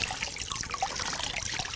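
Cold water trickling and splashing onto a person's feet during a cold fomentation, a close, bright, continuous dribble with small irregular splashes, no voices over it.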